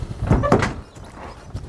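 Front door of a horse trailer being opened: a couple of close, loud clunks and bangs of the door's metal, followed by quieter rustling.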